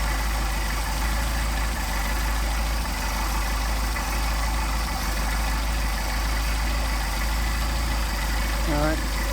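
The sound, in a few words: Mercedes 190SL engine idling with Solex carburetors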